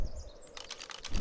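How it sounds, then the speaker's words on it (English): Ice cracking breath attack of a Managama creature in the ARK video game, a brief burst of crisp, crackling, pulsing bursts lasting about half a second, moderately loud against a quiet background. "I could hear that ice cracking noise."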